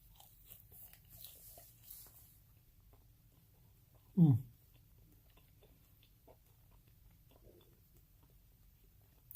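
A single close, crisp crunch of someone biting into a McDonald's french fry, one short bite standing out against quiet room noise.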